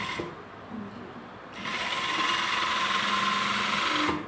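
A sewing machine stitches a shirt collar, first a quieter start, then a steady close whirring run at constant speed that stops abruptly near the end.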